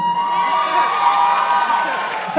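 A live concert audience at a show cheering and whooping loudly, a close, sustained wash of crowd noise over a lingering tone.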